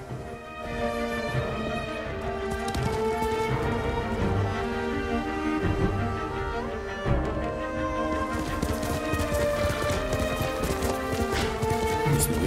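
Horse hooves clip-clop steadily while riding in Ghost of Tsushima, an even galloping rhythm under a dense layer of game music, loud and continuous with a brief dip partway through.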